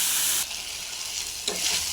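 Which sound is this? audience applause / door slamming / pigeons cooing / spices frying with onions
spices frying with onions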